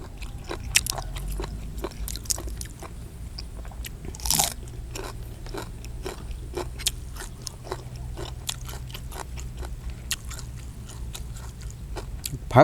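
Close, crisp biting and steady crunchy chewing of rice noodles with squid and chili, with repeated sharp bites in an uneven rhythm and no talk.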